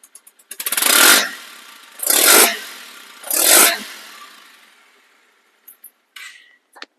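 A 2022 Bajaj Avenger ABS motorcycle engine revs in three strong surges, each rising and falling away, followed by a quieter idle with a few faint clicks near the end.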